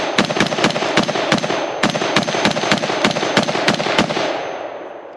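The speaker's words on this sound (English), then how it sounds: "First shots out of the 20-inch Hellion." Rapid gunshots from a Springfield Hellion bullpup rifle with a 20-inch barrel at an outdoor range, about a dozen sharp, loud cracks in quick, slightly uneven succession, the last echo fading out.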